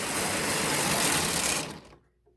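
A Bing motor conversion's DC motor runs steadily below full throttle with a dense mechanical whir, then cuts off and falls quickly to near silence when the power is removed.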